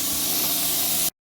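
Compressed air and fine mist blast from a lawn sprinkler head during a DIY irrigation blowout, a loud continuous close hiss that cuts off abruptly into silence.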